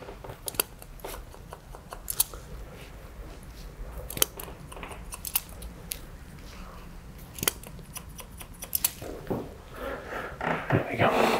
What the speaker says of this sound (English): Just going to break up the fringe a little bit as well. Cutting straight into it.